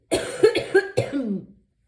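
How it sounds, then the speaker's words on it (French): A single close, loud cough with a few rough bursts, then silence. "excusez-moi, j'ai encore toussé."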